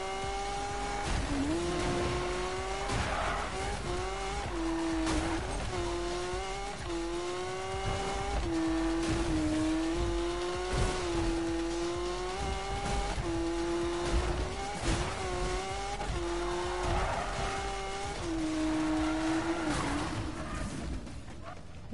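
A car is driven hard in a video game, its engine revving and wavering up and down repeatedly while tires squeal through skids, loud and continuous for the whole stretch.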